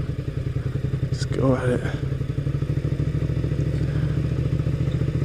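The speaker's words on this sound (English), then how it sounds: "Oh yeah, off-roading in your street bike." A street motorcycle rides over a bumpy gravel off-road trail, its engine putting out a steady, rapid pulsing drone with rattles and knocks from the rough ground, while a rider briefly speaks over it.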